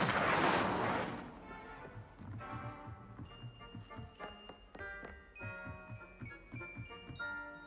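Hogwarts Legacy's Incendio fire spell erupts as one loud, rushing burst that fades within a second, giving way to soft tonal game music with chiming notes.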